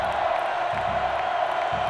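Football stadium crowd at an AEFL game between the Pennsylvania Bucks and the Ohio Comets, a dense, steady roar of cheering and yelling with no clear breaks, loud and sustained throughout.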